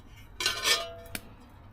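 A stainless steel trivet is set down into a camp cooking pot with a couple of close, bright metallic clanks and a short ring, followed by a single lighter clink.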